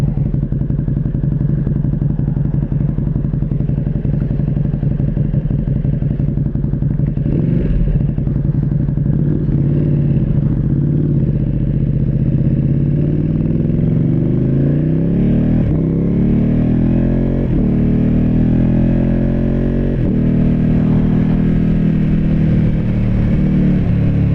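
A Ducati Panigale V2 sport motorcycle engine drones loudly while riding in race mode, pitch sliding up and down through gear changes, then winding down as the engine brakes.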